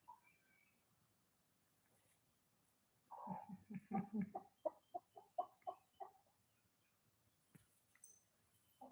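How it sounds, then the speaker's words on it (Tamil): Chickens cluck in a quick burst of short, rhythmic calls nearby, trailing off into quiet with a few faint peeps around it. "அடுத்து வந்து கோழி வந்துருச்சு இப்போ இதெல்லாம் பிடிச்சி அடைக்கணும்"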